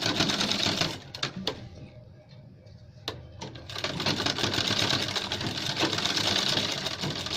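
A sewing machine stitches a men's shirt collar in fast, loud whirring runs, pausing briefly with a few clicks before starting up again and running steadily.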